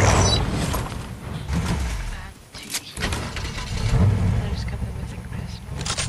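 A car driven in the video game Fortnite, its steady engine rumble and mechanical noise running throughout, dipping briefly midway, with voices talking over it.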